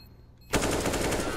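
Rapid automatic gunfire from the video game Counter-Strike: Global Offensive during a FURIA vs Liquid ESL Pro League match breaks out abruptly after a quiet moment, a loud, dense burst of shots sustained to the end.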